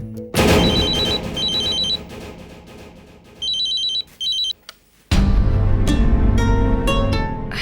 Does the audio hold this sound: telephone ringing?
yes